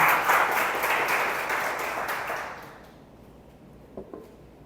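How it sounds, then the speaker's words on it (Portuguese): Church congregation applauding during a worship service, a loud burst of many hands clapping together that fades away over a few seconds, followed by quiet room tone and a couple of faint knocks. "Dê um aplauso ao Senhor por isso."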